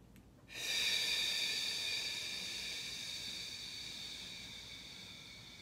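A long, steady exhale of breath released after holding it, breathy and close, starting suddenly and slowly fading over several seconds with no talking.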